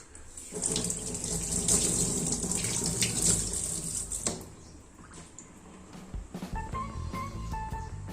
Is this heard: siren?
no